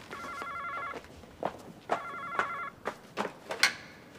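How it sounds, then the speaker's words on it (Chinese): An old-style telephone bell rings in two long trilling bursts, loud and close, in a Hong Kong TVB drama scene, with footsteps and other thumps and movement sounds between and after the rings. "咁你听电话先啦，电话就嚟冷烂啦。"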